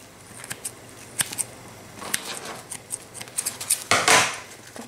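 Knife cutting the tops off freshly baked bread rolls, giving a string of short crisp crackling scrapes through the crust that grow louder and denser toward the end, with no talk.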